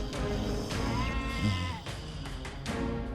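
A goat bleats and cries out for its young, a loud wavering animal call repeated several times over a few seconds, sounding close with no talk over it.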